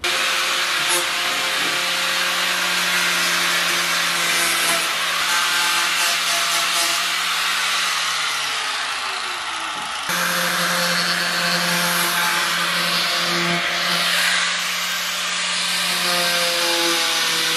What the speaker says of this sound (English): So we smooth it out now as much as we possibly can using the grinder.